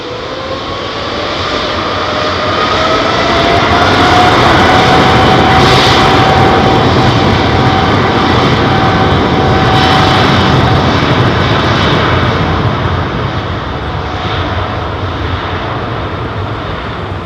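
A jet airliner roars close by on takeoff at London Heathrow Airport, a loud, sustained engine blast with a rising whine that swells and then slowly fades as the aircraft climbs away.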